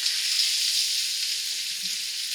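Steak sizzles steadily in a hot cast iron pan just after being flipped, a loud, close, continuous hiss of frying with no break.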